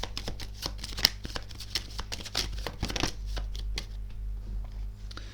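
Tarot cards are shuffled and drawn by hand, a close, busy run of crisp riffling and flicking snaps that settles into quieter handling toward the end.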